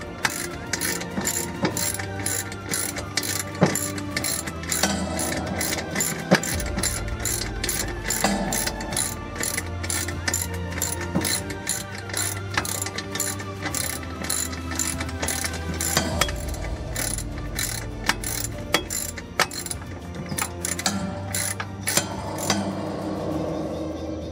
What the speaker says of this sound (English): You take your 3/8 socket ratchet and go ahead and